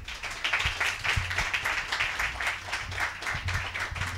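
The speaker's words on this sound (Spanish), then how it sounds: "Así que les pido un tremendo aplauso" Audience applause welcoming a guest speaker to the stage at a talk on happiness, a steady wash of many hands clapping at moderate distance, fairly faint and continuous with uneven bursts throughout.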